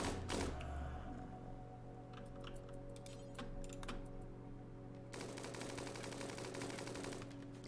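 Rapid bursts of gunfire from a RimWorld colony battle crackle over a steady game background hum, a dense patter of shots and a heavier stretch of fire near the end, with no talk.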